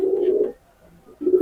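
A Sakiteri pigeon, a young single bird, coos close by in two low throaty bursts separated by a short pause, with no voices alongside.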